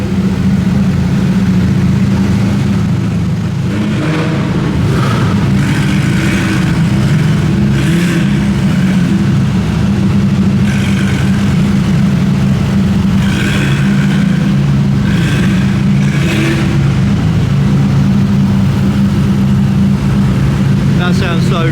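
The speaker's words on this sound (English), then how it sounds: "The GT3 RS is starting up." A Porsche GT3 RS's throaty engine idles and rises in repeated revs at a cars and coffee meet, several bursts over a steady rumble with a faint crowd murmur in the background.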